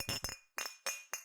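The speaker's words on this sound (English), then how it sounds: "clinking of bottles" Glass bottles clink together inside a knapsack in five quick, bright knocks, close and loud with no talk.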